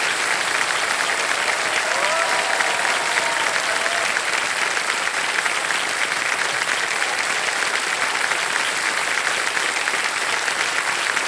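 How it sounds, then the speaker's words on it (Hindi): A studio audience on the quiz show Kaun Banega Crorepati applauds a contestant's win in a steady, loud, unbroken wave of clapping, with faint music briefly in the background. "तालियां बजती रहें इनके लिए।"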